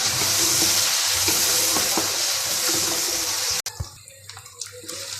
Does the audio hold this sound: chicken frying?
yes